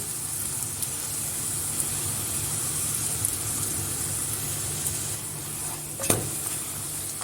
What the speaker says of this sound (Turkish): Şöyle çevire çevire kızartıyorum.